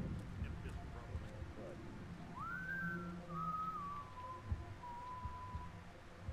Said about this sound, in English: I love how they're all whistling at the same time.